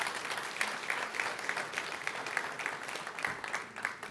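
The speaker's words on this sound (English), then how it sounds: "Please round of applause, please round of applause." Audience applause at a Ghana–UK investment summit: steady, dense clapping from a large seated crowd that fills the whole stretch at moderate loudness, with no speech over it.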